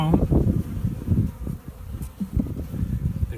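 Honey bees buzzing around an open hive while its frames are lifted out and inspected, a steady close drone with shifting swells, alone with no talk.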